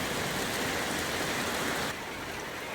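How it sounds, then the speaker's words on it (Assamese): Heavy rain pours down steadily as a dense, loud, even hiss that fills the whole span and eases slightly near the end. No voices are heard. "এয়া চাওক কেনেকুৱা বৰষুণ হৈছে, একদম পানী, একদম পূৰা পানী।"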